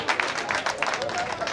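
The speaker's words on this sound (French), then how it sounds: "Troisièmement, écoutez, applaudissez, hein." Audience at an interfaith prayer gathering claps in a brief, dense burst of applause, moderately loud, with voices mixed in.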